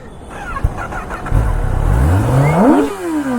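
A Kawasaki ZX-10R superbike with its stock exhaust revs up near a college campus, a fairly loud engine note that climbs in pitch over a couple of seconds, then eases off.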